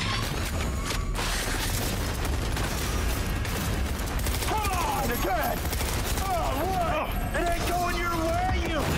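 Rapid gunshots crack continuously in a Cyberpunk 2077 gunfight, loud and close, in quick overlapping volleys; game voices call out over the shooting during the second half.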